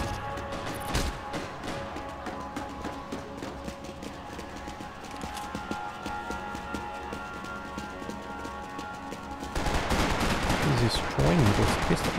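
Gunfire in Max Payne 3 multiplayer, rapid repeated pistol shots crackling through busy game noise, with a louder, denser burst of action near the end.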